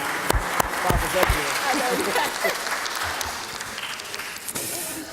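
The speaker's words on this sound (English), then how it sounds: "join me in thanking all the panelists. A round of applause for participating, giving their time." A conference audience on South L.A. business development applauds its panelists with sustained clapping. Voices murmur underneath, and a few sharp claps stand out.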